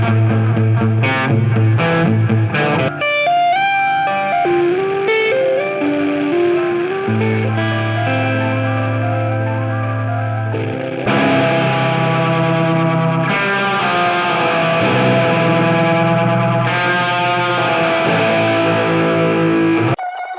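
A Death by Audio Echo Dream 2 delay pedal processes a loud distorted instrument through shifting echoes and modulated repeats, sustained chords and wavering tones filling the whole stretch with no talking.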